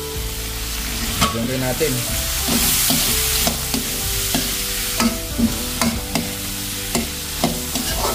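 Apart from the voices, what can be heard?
sautéing garlic, onion and tomato with browned meat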